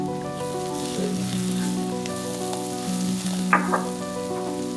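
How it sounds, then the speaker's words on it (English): Onions, ginger and garlic frying in a pan with dry spices added on top, a steady close sizzle with a few brief stirring clinks, no voices. "I like to add the dry spices as the onions, ginger, and garlic are cooking."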